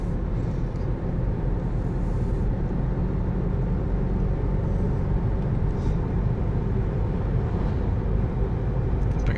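Alfa Romeo Giulia 2.2 with 160 hp accelerating, heard as a continuous, even engine and road drone from inside the car, moderately loud and without speech.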